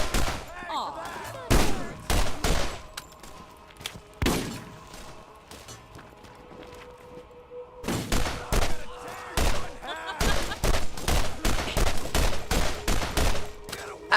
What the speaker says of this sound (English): I've been shooting all day